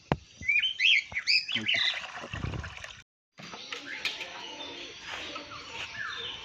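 Pigeons coo softly outdoors amid bursts of bird chirping, with a brief silent gap midway and low background noise.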